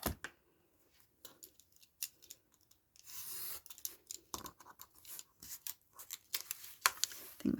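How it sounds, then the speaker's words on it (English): Paper being cut with a blade for a pocket in a handmade Christmas journal: close, intermittent scraping and rasping strokes in short bursts with quiet pauses between them. "And then of course we'll just cut that off."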